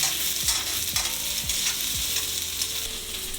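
Onions sizzle and crackle steadily in a hot pan of shrimp stir fry with peppers, a continuous frying hiss broken by a few stirring scrapes, close and fairly loud with no voices.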